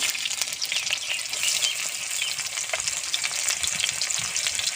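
Chopped onions sizzle and hiss in hot mustard oil with cumin seeds in the pan, a close, steady frying crackle with faint stirring scrapes and no talk.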